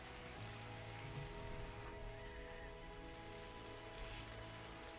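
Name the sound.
rain falling, from a video game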